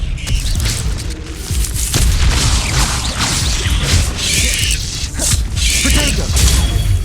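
A disarming spell cast in the video game Hogwarts Legacy, heard as a dense stretch of booming, whooshing magical impacts and crashes that runs loud and steady for several seconds, with no voice over it.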